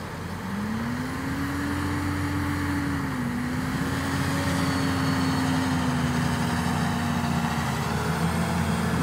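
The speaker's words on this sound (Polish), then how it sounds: "M320R, no kawał ciągnika." An M320R tractor engine runs steadily nearby with a loud, continuous low drone and a whining tone that rises and holds, with no speech.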